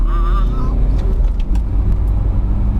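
BMW E46 320d Touring with a 2-litre turbo diesel pulling through first and second gear, a steady close engine drone rising in pitch with a brief shift, heard from inside the car.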